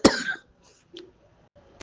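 A woman with a sore throat coughs once sharply and close, followed by a couple of fainter throat-clearing sounds in an otherwise quiet room.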